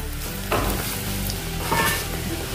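Bay leaves and dried chillies frying in hot oil give a continuous loud, close sizzle that swells twice as more goes into the pan.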